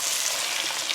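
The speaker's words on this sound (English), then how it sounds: "We've got them sizzling, and then we add a layer of the eggplant in the pan" Eggplant slices sizzle and fry in a pan for an eggplant parmesan bake, a steady dense crackling hiss with no talk.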